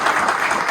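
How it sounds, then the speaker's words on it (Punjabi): A church congregation at a Friday sermon claps in a dense, steady burst that fills the moment. "ਤਾਲੀ ਬਜਾਏ।"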